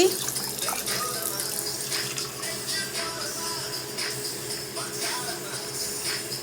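Steady running water pours without a break, a continuous splashing rush from a tap filling a rice pot close by, two tumblers of water per tumbler of rice, with no talking.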